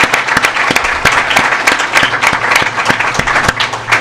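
Audience applause at an NBA press conference for the league commissioner, steady dense clapping from a large crowd throughout with sharp individual claps standing out, sustained and fairly loud.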